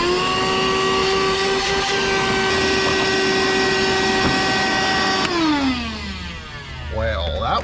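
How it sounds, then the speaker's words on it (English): A DeWalt vacuum cleaner roars steadily and loudly at close range while sucking debris from a 2025 Hyundai Tucson air filter box, its pitch dropping as it winds down near the end while a voice briefly speaks. "So let me go get the vacuum. I'll suck that out real quick"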